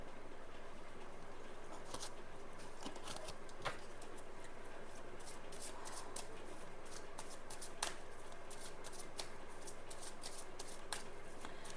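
Tarot cards being shuffled by hand, a soft papery riffle and patter repeating in quick bursts, faint and close, with light bird-like chirps in the background.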